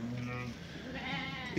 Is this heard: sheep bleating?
yes